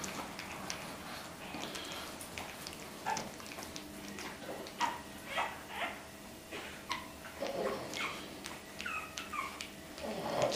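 Boston Terrier puppies at a breeder's kennel whimper and let out thin, high yips, a scattered run of plaintive cries that grows busier toward the end, fairly close.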